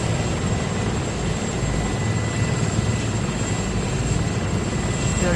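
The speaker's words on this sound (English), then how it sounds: "Really nice helicopter." Rotor and turbine drone of a helicopter in the video game Arma 3, a steady, loud, continuous engine roar that holds evenly throughout with no talk over it.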